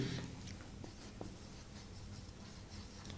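Faint scratching of writing, soft intermittent strokes and taps against a quiet room hiss, light and close with no talking.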